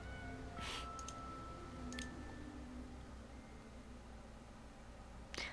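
A few short, faint meows from a cat in the video game Summer Paws rise out of a steady hiss and soft background music, spaced a couple of seconds apart.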